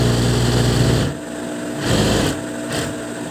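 An old, long-unused sewing machine runs with a steady high-pitched whir. It pauses and restarts in short bursts, and the sound stays close and fairly loud with no talk.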